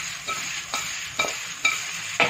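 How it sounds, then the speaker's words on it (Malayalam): Chicken being stirred and mixed in a hot pan for chilli chicken, a continuous sizzle broken by five regular scraping strokes of a spoon, close and clear with no voices. "നമുക്കിനി ചിക്കൻ ആഡ് ചെയ്ത് കൊടുക്കാം. നല്ലോണം മിക്സ് ചെയ്യാം."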